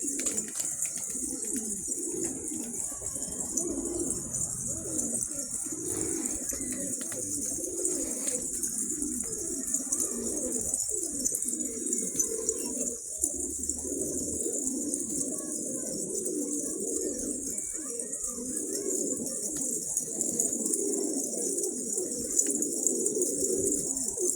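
A flock of pet pigeons coos steadily and overlapping throughout, close and continuous, with a constant high hiss and occasional faint chirps beneath.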